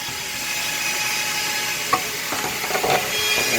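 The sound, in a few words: small power sander sanding wood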